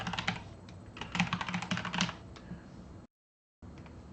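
Fingers type on a computer keyboard in quick irregular bursts of close, crisp key clicks, followed by a short silent gap and then a faint room hush.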